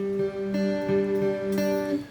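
Acoustic guitar chord fretted and picked across strings 4, 3 and 2 in a steady repeating pattern, several distinct plucks ringing into each other, close and clear with no voices.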